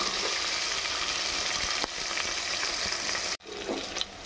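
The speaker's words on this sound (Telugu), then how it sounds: "ఒక 2 సెకండ్లు ఇవి ఫ్రై అవ్వనిద్దాం." Ingredients for khichdi frying in a pan: a dense, continuous sizzle with a few stirring scrapes, which drops out abruptly near the end before resuming.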